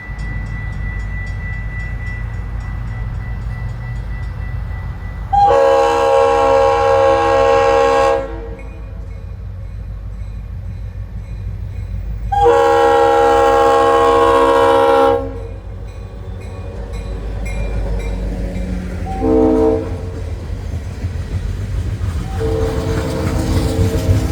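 An FECR locomotive hauls a train past at night, sounding several long, loud horn blasts over a steady low rumble of rolling wheels and engine, with a shorter horn note near the end.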